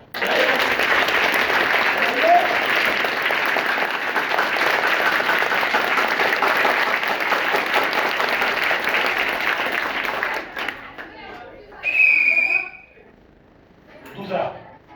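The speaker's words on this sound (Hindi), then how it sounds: "ग्रेट, अपने लिए जोरदार ताली।" Students in a school classroom at a village competition applaud loudly, a dense burst of clapping lasting about ten seconds before fading into quieter voices and a few scattered claps.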